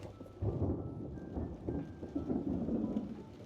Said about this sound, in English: Y'all heard the thunder.